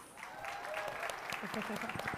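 An audience at a conference lunch session applauds a speaker being welcomed to the stage, with quiet, scattered clapping heard at a distance under some background murmur.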